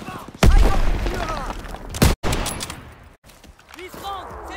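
Gunfire and explosive booms from the Normandy landing in the World War II shooter Call of Duty WW2: loud bursts near the start and around two seconds, with shouted voices and scattered shots in between.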